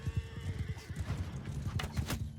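A horse in the Mount and Blade 2 Bannerlord video game clops its hooves in a quick rhythm while a neigh rises faintly in the background, all fairly quiet.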